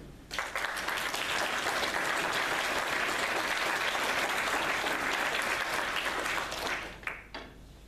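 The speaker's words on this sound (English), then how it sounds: "Gentlemen, a polite applause for the lovely Miss Sybil Vane." A theatre audience gives sustained applause for a performer, a dense, steady wash of clapping from many hands that carries on for several seconds before tapering off into a few scattered claps.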